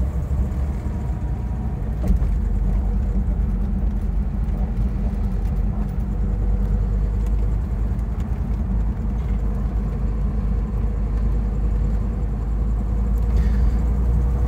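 A 1962 Bentley S2 Continental Flying Spur with HJ Mulliner coachwork drives along with a steady, deep, heavy engine rumble. The sound stays loud and close from inside the car, with no talking over it.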